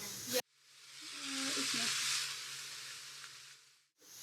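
Onion, garlic and celery hit a hot pan and burst into a loud, steady sizzle that lasts a few seconds and then cuts off abruptly.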